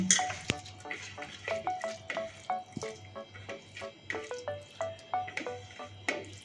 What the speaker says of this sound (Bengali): এবার মশলা দিয়ে টমেটোটা মাখিয়ে নিচ্ছি